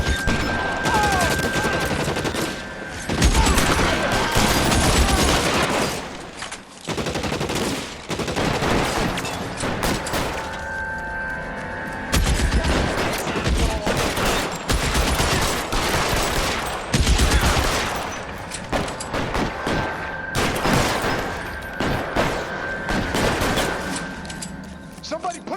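Gunfire in the L.A. Noire video game during an arson case shootout, loud and near, with dense bursts and volleys of shots running throughout, mixed with game sounds and voices.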